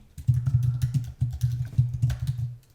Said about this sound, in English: And now I will start typing